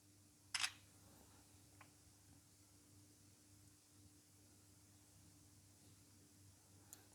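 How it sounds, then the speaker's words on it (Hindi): An Oppo A57 phone's rear camera fires a single sharp shutter click early on, followed by a couple of faint small ticks in a quiet room with a steady low hum. "तो सबसे पहले एक पिक्चर में क्लिक कर लेता हूँ।"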